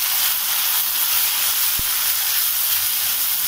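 Chopped tomatoes frying in a hot pan with green chillies and curry leaves, a steady bright sizzle that hisses continuously and close, with one brief soft tap partway through.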